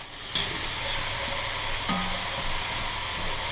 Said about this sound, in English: we want to saute the mirepoix up really good till it's nice and tender